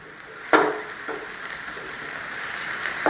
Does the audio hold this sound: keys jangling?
no